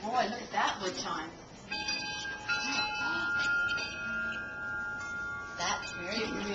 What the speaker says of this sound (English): look at that wood chime